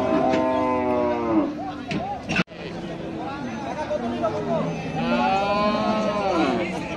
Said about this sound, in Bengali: দুটি সুন্দর গরু আসছে